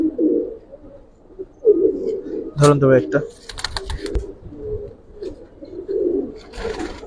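Several Giribaz pigeons coo steadily nearby in low rolling phrases while someone speaks briefly over them, with a short rustle and wing flutter midway.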